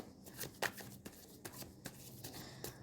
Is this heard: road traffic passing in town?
no